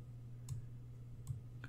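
Three quiet, sharp computer mouse clicks spaced roughly evenly apart over a low steady hum, with no talking.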